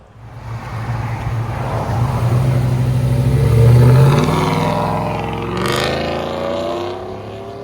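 A cammed, catless 6.0L V8 GMC Sierra truck revs loudly up close, its deep exhaust roar building to a peak and then settling into a lumpy, throbbing idle.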